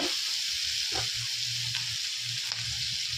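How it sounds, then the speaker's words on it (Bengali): Spicy masala chowmein frying in a hot pan, a bright constant sizzle with a few scrapes of stirring, close and unbroken. "দেখেছো কত সুন্দর ভাজা হচ্ছে"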